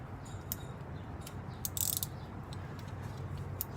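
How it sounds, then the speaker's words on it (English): A ratcheting wrench clicks as it tightens a nut against a transmission bell housing, a light, close metallic ticking that repeats in short bursts over a low steady hum of the garage. "we're going to take our nut and our ratcheting wrench, make sure we're going the right direction."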